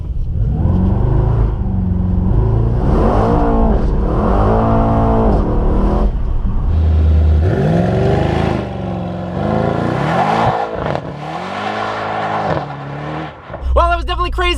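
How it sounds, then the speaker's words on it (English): A 2018 Mercedes-AMG E63S in rear-wheel-drive drift mode revs hard while attempting a burnout, with loud repeated engine climbs and drops close by, tire whir near the end, and a person talking over it. "Let's see if it'll do a burnout."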